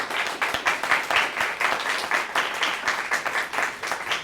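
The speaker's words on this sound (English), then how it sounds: "Let's have a round of applause for our elementary schools." A crowd at a school awards presentation applauds the elementary schools, a loud, dense burst of clapping that pulses evenly and continues throughout.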